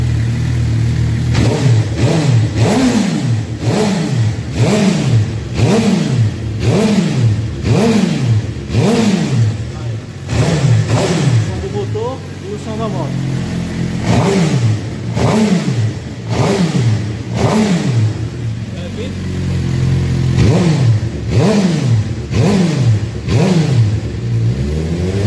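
Motorcycle fitted with a FullPro aftermarket exhaust revved repeatedly, loud close blips rising and falling in a steady rhythm of about a dozen throttle bursts, with a brief pause midway.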